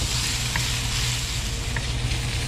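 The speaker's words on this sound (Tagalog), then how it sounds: "At kapag malambot na itong ating ginigisang bawang, luya at sibuyas" Garlic, ginger and onion sautéing in a pan for Filipino sweet and sour fish escabeche, a steady, close, even sizzle of frying oil with a couple of faint clinks and no speech.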